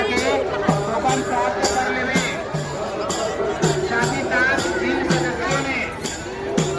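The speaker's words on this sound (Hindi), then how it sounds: "देख सकते हैं संगवारी में बहुत ही ज़्यादा भीड़ है" Large, dense crowd chatter at the Lolesara Baiji fair in Bemetara, a steady babble of many voices with rhythmic drumming and music running underneath throughout.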